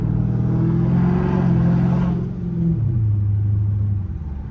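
An SRT car engine rumbles steadily, swells in a rev, then drops to a lower idle hum, close and loud with no talking.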